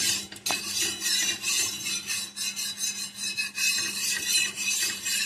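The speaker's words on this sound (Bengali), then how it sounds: "তেলটা চাটুতে ঘুরিয়ে ঘুরিয়ে লাগিয়ে দেবো খুন্তি দিয়ে" A metal spatula scrapes and rubs oil around a hot tawa in sweeping strokes, a harsh, continuous close scraping that swells and dips with each circular pass.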